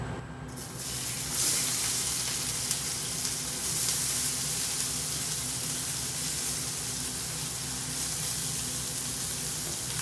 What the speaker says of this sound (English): I am adding the onions and the diced up green peppers and red peppers.